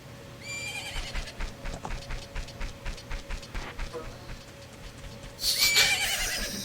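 Epona, the horse in Majora's Mask, whinnies over rhythmic in-game hoofbeats that clip-clop steadily throughout, followed by a brighter burst of game sound near the end.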